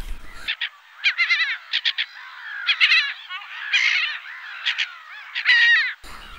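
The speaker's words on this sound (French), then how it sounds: "Et la mouette." A seagull calls in a quick series of harsh, repeated squawks and cries, close and clear, with nothing else around them.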